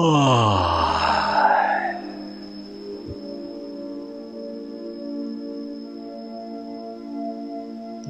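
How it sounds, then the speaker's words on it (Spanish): A voice lets out a long, exaggerated yawn-like groan during a Chi Kung relaxation exercise, rising then trailing off into a sustained resonant hum that continues for several seconds. "Pueden fingir unos bostezos."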